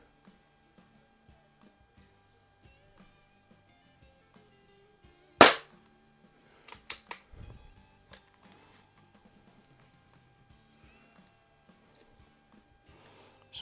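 Crosman 1701P air pistol firing at a wadcutter target match, one sharp, loud shot followed by a few softer clicks and clatter of loading, otherwise quiet.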